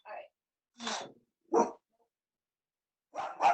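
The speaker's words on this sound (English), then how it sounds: "I adore him, but being home with him 24/7 makes me realize how much he barks" A pet dog barks in short, separate sharp bursts close by indoors, about four barks with gaps of silence between them.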